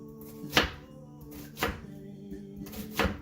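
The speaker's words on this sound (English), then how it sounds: "mincing it" A knife strikes a cutting board three times at slow, roughly one-second intervals while mincing salsa ingredients, each chop close and crisp over a faint steady hum.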